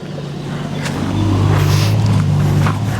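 A four-wheel-drive vehicle rolls slowly past nearby, its engine rumble and tire noise swelling to a loud steady drone and holding, with no talking.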